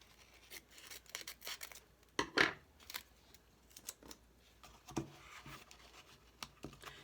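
Scissors snip through paper in a crafting session, a series of quiet, close crisp cuts and rustles coming at irregular intervals with soft handling noises between.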